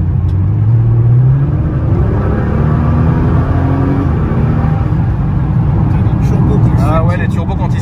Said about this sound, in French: les turbos quand ils s'ouvrent, c'est beau